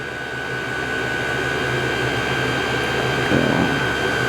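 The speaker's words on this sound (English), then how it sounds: "that was me starting to machine the leaded bronze I bought" A lathe machining a leaded bronze bearing for a Wolseley WD1 gives off a steady, loud, whirring drone with a constant high whine running through it, continuous for the whole stretch with no talking.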